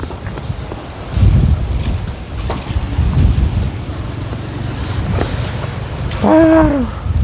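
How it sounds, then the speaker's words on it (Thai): Wind blows outdoors in rumbling gusts against the microphone, loud and close, with a brief tonal call near the end. "ลมมาดีพี่น้อง"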